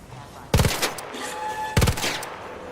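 Two loud gunshot bursts in a multiplayer shooter game, each a sharp cluster of rapid shots about a second apart, set against steady game ambience.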